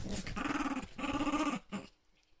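Dog stuck lying on its back growling in two short close bursts followed by a brief whimper, quiet and alone.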